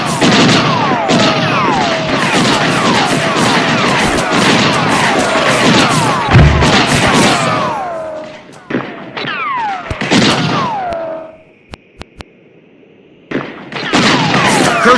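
Rapid volleys of gunfire crackle through a video game battle, dense and continuous for several seconds, then thin into scattered shots with brief gaps before a fresh burst returns.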